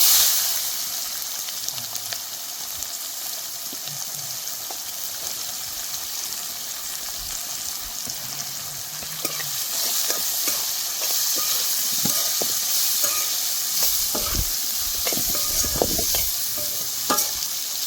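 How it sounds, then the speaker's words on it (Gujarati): Chopped onions sizzle steadily in hot oil with mustard seeds, cumin, curry leaves and asafoetida, with spoon scrapes and stirring knocks throughout a constant frying hiss in a home kitchen. "આપણા કટિંગ કરેલા કાંદા નાખશું"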